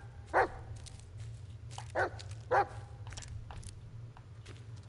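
Dog barking in the Blair Witch video game, three or four separate moderately loud barks spaced over a low steady hum.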